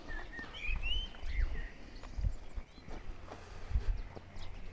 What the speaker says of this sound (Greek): ακούγονται και τα πουλάκια που κελαϊδάνε